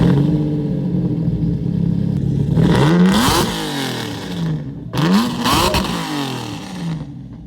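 A 1991 Lamborghini Diablo engine revs hard and loud up close, rising through two strong surges with a drop and a short lull between them, each climbing to a roaring peak before falling away.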